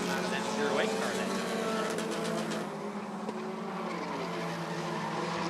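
Race cars roar around the Rockford Speedway oval during a Bandit heat, engines droning loud and steady as they pull out of a turn, with an announcer talking over the racing.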